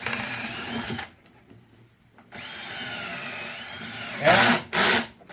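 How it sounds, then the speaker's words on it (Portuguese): A drill bores holes into very hard wood in short bursts: a whirring run, a pause, a longer whining stretch, then two loud, brief revving pulses. The drilling is close and there is no talking. "a gente vai fazer vários furos aqui"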